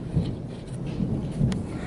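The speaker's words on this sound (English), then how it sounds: "Oh, now it's starting to rain." Outdoors as a thunderstorm begins, low rolling rumbles of thunder swell and fade beneath a steady hiss of light rain, with no one speaking.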